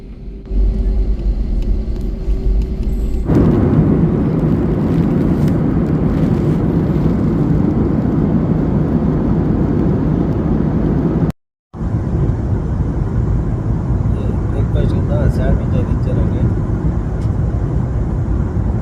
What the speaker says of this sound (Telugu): ఇప్పుడు చెన్నై నుండి భువనేశ్వర్ అయితే బయలుదేరుతుందండి ఫ్లైట్